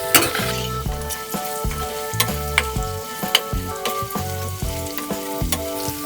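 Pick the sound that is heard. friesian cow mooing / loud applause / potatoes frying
potatoes frying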